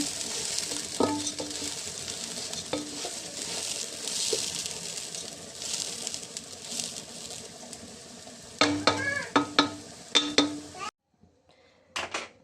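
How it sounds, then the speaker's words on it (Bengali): Polao rice frying in a pan, a steady soft sizzle under scraping stirs, with a few sharper metallic knocks of the spoon near the end before it goes quiet. "পোলার চালটা ভাজতে শুরু করেছি"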